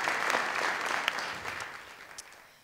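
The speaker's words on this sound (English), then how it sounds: "So another round of applause for her." A crowd at a show's opening applauds for a thanked organizer, with a burst of clapping that thins and fades over a few seconds, alone without talk.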